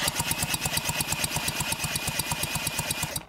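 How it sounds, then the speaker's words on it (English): Rapid, steady mechanical chugging as a Johnson outboard engine is cranked over by a drill, with a whirring whine running underneath. "I'm turning it with a drill up here."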